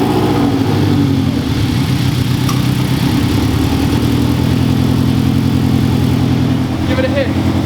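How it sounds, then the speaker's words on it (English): Toyota 86 boxer engine with a Tomei unequal-length open header, front pipe and overpipe, running loud and close with a steady lumpy rumble throughout, with talk faintly over it. "So we're going to start the car up now, which means open header with the addition of the front pipe and the"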